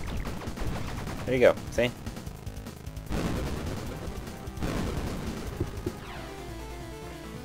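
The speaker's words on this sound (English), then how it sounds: "you can push those back by shooting them" Rapid gunfire from the video game Bleed, bursts of shots crackling over busy game music and effects, with a sharp cluster of louder shots early on, as a player talks briefly over it.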